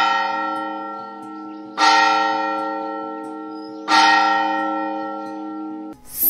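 A church bell strikes twice, each stroke ringing out and fading slowly, before a brief burst of noise at the very end.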